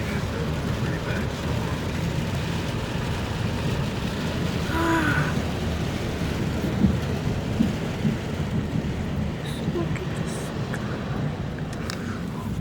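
A summer thunderstorm rolls overhead with a steady wash of rain and low rumbling thunder, heard close and continuous from inside a vehicle.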